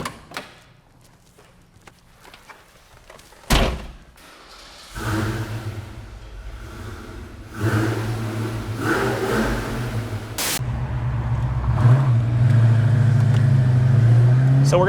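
A 1990 Ford Mustang Saleen heads out on a test drive: a thump like a door closing, then the engine comes alive and revs, rising into a loud, steady drone with fluctuating throttle.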